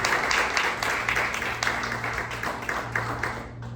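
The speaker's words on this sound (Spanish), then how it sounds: "Ven, dale fuerte el aplauso a Yeshua HaMashiach" Audience applause at a Yom Kippur service, a steady wash of clapping at moderate level with a low hum underneath, fading at the very end.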